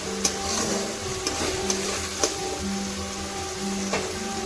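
Spices with turmeric powder being stirred in a pan for a vegetarian potato and paneer dish, a spoon scraping in repeated strokes with sharp clicks against the metal over a steady low sizzle and hum.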